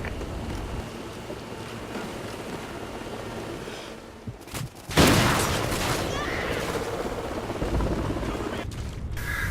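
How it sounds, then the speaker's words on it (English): Gunfire from a scoped rifle in the video game Call of Duty Ghosts, a sharp burst of shots and rumbling battlefield noise over steady background game ambience, with a brief lull just before. "I'm stopping, aiming, shooting."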